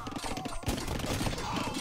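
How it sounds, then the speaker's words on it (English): Hand cannon fire in Age of Empires battle, a quick cluster of sharp shots popping amid dense combat noise, with a voice commentating over it. "There's not that many hand cannons on the field, so Joey was able to maybe mass"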